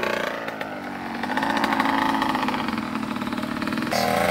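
A small dirt bike engine revs up and holds a high, buzzing pitch, close by and loud, then shifts tone near the end.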